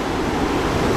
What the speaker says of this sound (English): These waves are rough.